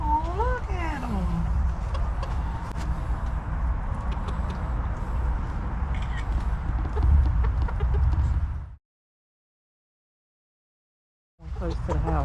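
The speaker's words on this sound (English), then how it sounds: "They got them some chickens." Bantam chickens and roosters cluck and call at a pioneer settlement in Volusia County, Florida, a busy scatter of bird sounds over outdoor noise, stopping abruptly before resuming briefly.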